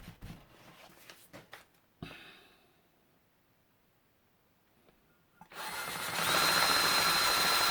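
A drill spins a valve to grind it into the cylinder head of a 1993 Range Rover, a loud steady whirring buzz rising in near the end after scattered handling clicks and a quiet pause.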